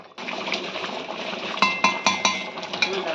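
Lemon chicken being stirred in a pan, a steady sizzling simmer with a run of sharp utensil clinks and scrapes against the pan near the end, close and clear.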